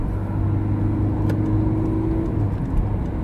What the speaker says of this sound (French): on accélère un peu